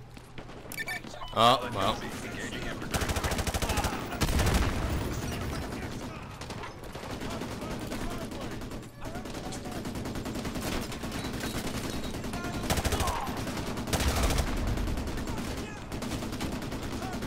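Sustained bursts of automatic gunfire and rapid shots in a Modern Warfare 2 Remastered battle, loud and dense throughout with brief gaps and heavier blasts, a voice speaking briefly over the combat.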